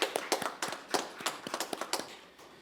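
A small audience at a 2021 New Year prayer meeting clapping in thanks, sparse and uneven claps from a few hands in quick irregular bursts, fairly faint and fading toward the end.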